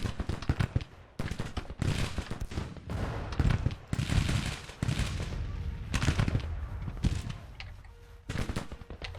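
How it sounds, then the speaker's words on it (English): Musket volleys and scattered rifle fire crackle through a Grand Tactician Civil War battle, with irregular bursts of dense, overlapping shots swelling and fading across the field, some near and sharp, others rolling in the distance. "we are firing at the enemy, so we need to push in"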